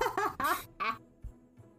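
Several quacks in quick succession, loud and close, each a short, harsh, nasal burst, with a brief pause before fainter trailing sounds. They may come from a duck or from a voice imitating one.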